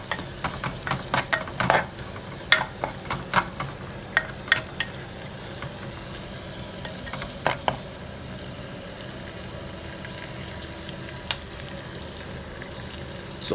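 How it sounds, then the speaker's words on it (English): Garlic, curry leaves and a cinnamon stick frying in coconut oil in a clay pot over a medium gas flame, with a steady sizzle broken by scattered scraping stirs, close and alone. "after the garlic and the curry leaves and the cinnamon stick is infused with the coconut oil"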